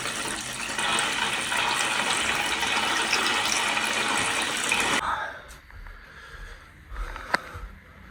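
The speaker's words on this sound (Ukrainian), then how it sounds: "Жовті ну, палки, оце у нас водичка біжить." After a day-long water outage, tap water gushes loudly and steadily for about five seconds and then stops, leaving quieter room noises and a sharp knock.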